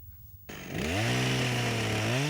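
A chainsaw starts up and cuts into frozen lake ice at a dive centre, its engine quickly rising to a loud, sustained, steady whine close by after a brief quiet moment.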